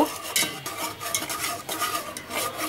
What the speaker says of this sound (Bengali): এটাকেও কিন্তু আমরা অনবরত নাড়তে থাকবো, না হলে কিন্তু নিচে লেগে যাবে।